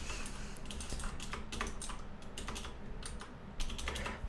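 Someone types on a computer keyboard, a quiet run of irregular key clicks in short bursts with small pauses, and no voices.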